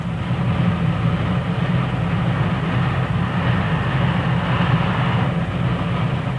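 Consolidation steam locomotives hauling freight and passenger trains on the Wilmington and Northern through a steel-mill town, a steady loud rumbling roar of rolling cars and heavy running gear, continuous and close, with no voices.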